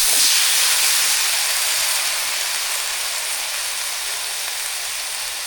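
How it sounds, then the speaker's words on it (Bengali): Teasel gourd (kakrol) frying in a pan gives off a loud, steady, close sizzle that fades slightly over a few seconds, with no voices. "এই জন্য আমি কাঁকরোলটা ভাজি করবো কাঁকরোল দিয়ে দিই"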